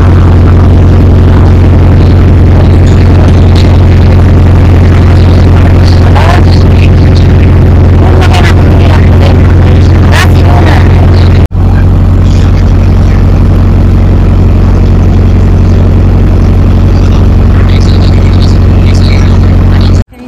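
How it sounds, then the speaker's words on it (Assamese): A passenger boat's engine drones loudly and steadily as the boat departs on a river crossing, a constant low rumble with no talk heard over it. "এতিয়া নাও ষ্টাৰ্ট দিলে গৈ আছে"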